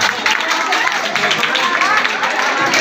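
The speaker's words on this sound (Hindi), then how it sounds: "तालियों से आप लोग स्वागत करें।" A crowd of students and teachers claps steadily at a stage event in Hindi-speaking India, welcoming a speaker. The dense applause is continuous and fairly loud throughout, with no talk over it.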